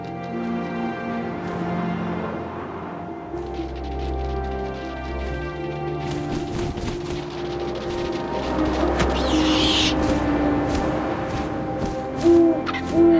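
Owl hooting in the video game What Remains of Edith Finch, repeated calls set against a steady bed of game music and ambient wind, with soft rustling and a few sharper effects toward the end.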